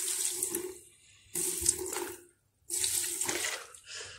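Petrol pours into paint in a container in three separate splashing bursts with brief silent gaps between them, close and fairly quiet.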